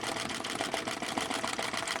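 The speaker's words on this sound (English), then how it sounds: "this machine is running very slowly. I'm operating it with my foot. You know, it's a treadle" A treadle sewing machine, worked by foot for machine embroidery, runs slowly with a soft, steady rapid ticking of needle strokes, fairly close and alone.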